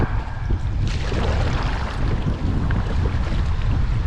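Steady wind buffets the microphone while floating a canoe or kayak on the Buffalo River, a loud continuous rumbling roar with a hissy top that never lets up, and no one speaks.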